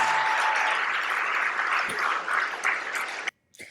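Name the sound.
crowd applause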